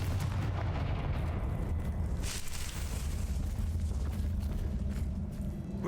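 A Confringo fire spell going off in the video game Hogwarts Legacy, a loud, sustained roaring blast with a rumbling low end and a brief crackling surge midway, with no voices over it.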